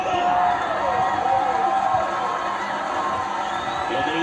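Stadium crowd cheering and roaring in the MLB The Show 24 baseball video game after a big hit, a loud, steady wash of noise throughout with faint whoops.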